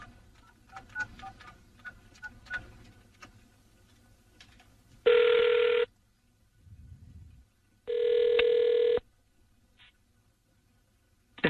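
Telephone ringback tone on an outgoing call, two loud steady electronic rings about two seconds apart in a quiet line, with faint clicks and line noise before them.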